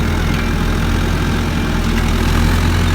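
A backhoe loader's heavy diesel engine runs steadily and loudly throughout, a deep continuous drone with no break and no voices.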